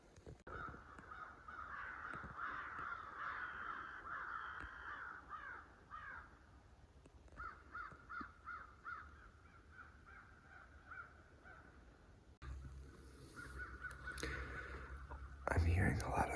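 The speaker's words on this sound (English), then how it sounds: "I'm hearing a lot of crows cackling." Crows caw repeatedly over a hill on public land in northern Wisconsin during a gun hunt, harsh calls overlapping in a steady chorus at moderate distance, with a person whispering among them and a louder rustle near the end.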